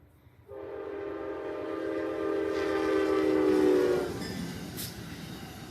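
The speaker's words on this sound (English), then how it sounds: "southbound Amtrak, which was pretty cool" A southbound Amtrak train passes a level crossing, its sustained horn blaring loud and close for a few seconds before the rumble of the cars continues and fades slightly.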